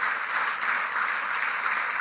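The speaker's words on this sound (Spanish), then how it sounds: "Le damos un aplauso fuerte al Señor." Congregation at a church congress in Guatemala applauding loudly and steadily, a dense continuous wash of clapping hands sustained at even volume with no voices over it.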